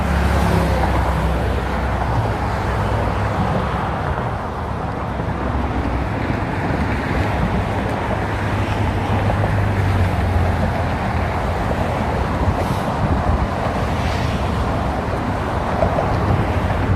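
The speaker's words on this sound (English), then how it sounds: "And boy, the car traffic is so loud." Heavy car traffic streams across the Golden Gate Bridge at close range, a loud, continuous low roar like a freeway, mixed with wind buffeting and no talking.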